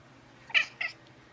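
A kitten gives two short, close meows in quick succession in a quiet room.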